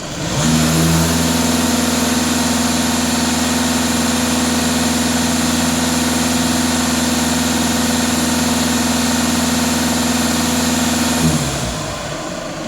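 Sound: Skoda VRS diesel engine idling and revving

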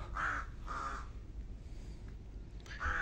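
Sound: crow cawing in flight

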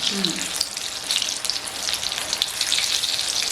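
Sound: prawn vada pav fritters frying in hot oil

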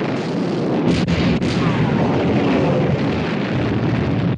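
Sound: battleship gun turrets firing in 1960 film

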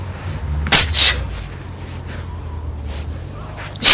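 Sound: sneezes hitting the microphone

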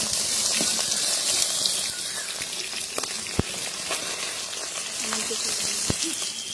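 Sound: fish frying in oil

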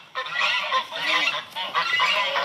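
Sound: duck or goose honking in a garden

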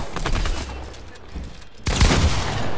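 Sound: gunfire in the video game Fortnite

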